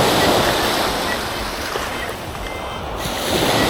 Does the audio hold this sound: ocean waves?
yes